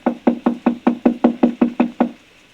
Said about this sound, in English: I'll knock again.